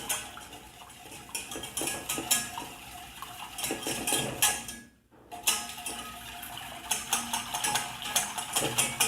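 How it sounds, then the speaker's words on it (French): A whisk or spoon stirs lemon tart cream in a pan, producing continuous close scraping and clinking against the pan with steady rhythm, a brief pause midway, then stirring resumes without voices. "le plus important, c'est de ne pas s'arrêter de mélanger, sinon la crème brûle"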